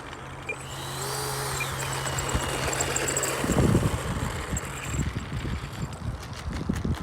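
An E-flite F-16 64mm electric ducted-fan RC jet runs on the ground, a steady hum with a whining higher tone that surges louder midway, near and continuous with no talk over it.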